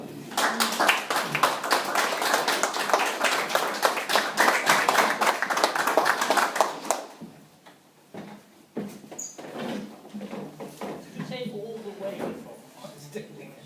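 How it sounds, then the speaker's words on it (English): Small crowd at a poetry evening in a Welsh club claps for several seconds in dense, steady applause, which fades into scattered claps, shuffling and murmured talk. "give him a clap"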